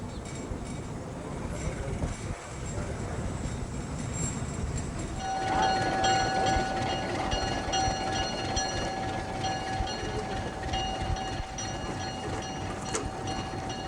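A train stands at Las Cardas station in Chile on a line not yet open to service, its engine rumbling steadily with a sustained tonal hum, and a voice speaks over it.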